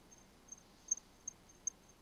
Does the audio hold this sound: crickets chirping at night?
yes